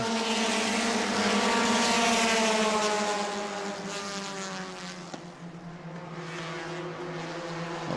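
Bomber-class race cars at New Smyrna speedway run three wide toward the back of the field. A loud, steady, multi-engine roar holds throughout, easing slightly in volume partway through as the cars pass.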